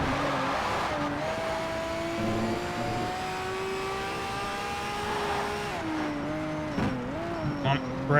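A race car in Need for Speed: Shift on PS3 braking with a wavering engine whine that drops in pitch, ending in short tire squeals near the close, with a voice talking over it.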